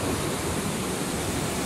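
The Quequén Salado river pours past an old dam by a disused power station, a steady, loud broadband rush of flowing water that fills the whole moment without a break.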